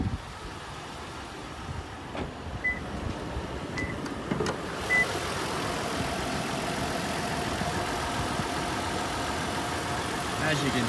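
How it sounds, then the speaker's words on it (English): A 2010 Toyota Prado's V6 engine idles smoothly just after a cold start: a steady, fairly quiet hum with a few small clicks, heard from the open engine bay. "very, very smooth"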